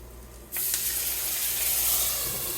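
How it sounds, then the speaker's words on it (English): Water poured into a hot pan to steam meat or vegetables bursts into a loud, steady hiss of sizzling steam after a quiet moment, continuing evenly to the end. "take a little water. This is how you can steam meat, you can steam vegetables."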